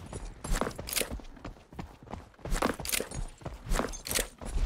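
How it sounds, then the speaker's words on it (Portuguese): Horse hooves clip-clopping in the video game Knightfall: A Daring Journey, a steady series of sharp, fairly loud hoof strikes coming in grouped clusters, with no voices. "Ouvi cavalo."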